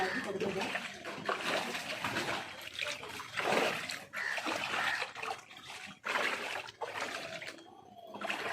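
Floodwater on a waterlogged rural road splashing and sloshing, close and continuous with uneven surges, as people wade through it with talking heard over the water.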